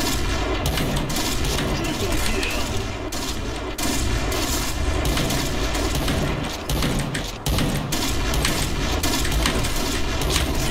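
Sniper rifle gunfire in the game Point Blank on a Thai server, a dense, loud, continuous barrage of rapid shots and battle effects with no pauses across the whole stretch.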